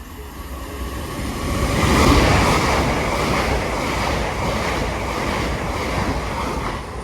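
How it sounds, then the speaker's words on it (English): A diverted Avanti West Coast Evo train running from Liverpool Lime Street to London Euston passes through, giving a broad rushing rumble that swells to a peak and then holds steady, with wind buffeting the microphone. "Got a diverted Avanti West Coast Evro, we're getting ready to pass through now"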